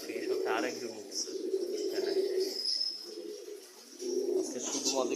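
Domestic pigeons coo in low, throaty, repeated phrases near the listener, with short pauses between bursts, during a release of the female birds from a rooftop loft.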